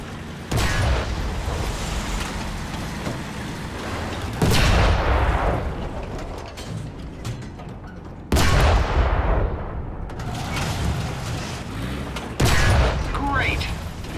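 Tank cannon fire in War Thunder: four heavy booms roughly every four seconds, each sharp blast trailing off into a long rumbling decay, loud and close, with a voice speaking in places over the battle noise.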